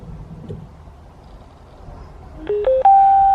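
Short rising series of electronic connection tones from a speaker in a KRX as it pairs with a phone, three stepped beeps ending on a steady held tone after a quiet start.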